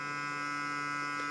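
An Oral-B iO Series 9 smart electric toothbrush runs on its daily clean mode, giving a steady, even electric whine with a sharp tonal buzz, close and constant for the whole moment, with no other sounds.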